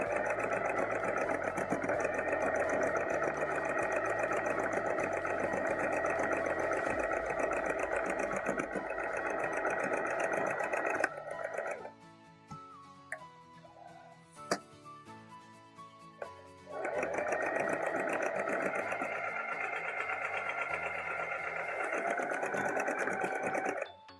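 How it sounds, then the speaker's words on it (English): A sewing machine stitches the front and back pieces of a Simplicity 9041 dress together, running steadily and loud for about eleven seconds, pausing briefly with light clicks, then running again at an even pace to the end. "Then we'll head to the sewing machine and sew the front and back pieces together"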